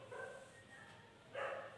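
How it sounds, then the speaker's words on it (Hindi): A dog barks in a home setting: a couple of short, faint barks heard at a distance against a quiet room, with no one speaking. "इसका कालू कितना भौंकता है कुत्ता"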